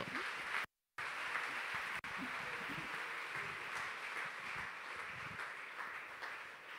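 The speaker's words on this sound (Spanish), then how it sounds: "Un aplauso fuerte" Congregation applauding at a church regional retreat in Mexico, a dense steady wash of clapping that carries on for several seconds with a brief dropout near the start.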